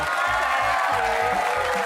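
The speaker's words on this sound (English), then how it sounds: "A huge round of applause for Julie Goodwin" A studio audience on the Australian game show The Hundred with Andy Lee applauds and cheers for Julie Goodwin, a dense and steady wash of clapping with whoops. It stays loud and close for the whole stretch.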